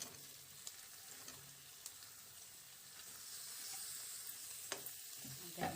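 Ridge gourd with turmeric sizzles softly in a pan, a faint, steady frying hiss with a few light clinks and stirring sounds, no voices.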